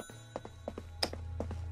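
Ringing in the video game Beholder 3: a repeated electronic ring with short, evenly spaced pulses over a steady low hum, moderately loud and without speech.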